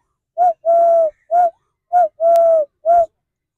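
A man imitates a dove's call with his voice, producing six close, loud cooing notes in two matching groups of short, long and short hoots, separated by brief pauses.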